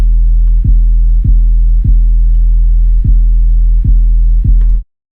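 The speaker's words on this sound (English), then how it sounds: "let's play the original bass with the Pro Q and the compressor on." An 808 bass track processed with an EQ and a compressor plays loud, deep, sustained notes that restart in a steady rhythm of seven hits, then cut off abruptly.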